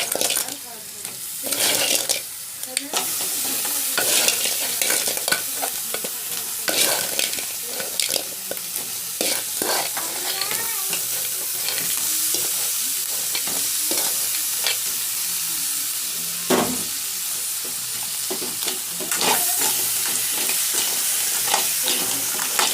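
Field crabs fry in oil and spicy masala, village style, with a continuous loud sizzle broken by repeated scraping and clattering as a spoon stirs them in the pan over a long stretch.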